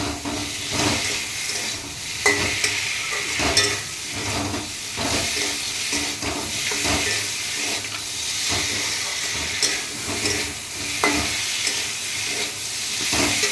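Spices being sautéed in a pan for a light home-style curry give a steady, close frying hiss and sizzle. It runs continuously with small crackles and stirring scrapes throughout.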